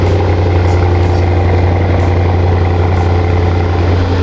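A Lamborghini engine idles with a steady, loud, deep rumble that holds constant without revving throughout.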